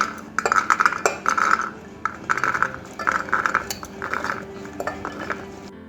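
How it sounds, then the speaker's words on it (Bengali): Dry kabuli chickpeas pour into a metal pressure cooker, giving repeated bursts of hard rattling clatter against the pot over several seconds, close and fairly loud with no talking. "প্রথমে দিয়ে দিলাম কাবুলি চানা"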